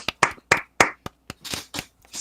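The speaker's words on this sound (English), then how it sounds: "Round of applause." Several separate hand claps from a small group during a Nosferatu watch-along, sounding close and sharp. The claps come in an uneven, loose rhythm with short gaps between them, not a full crowd ovation.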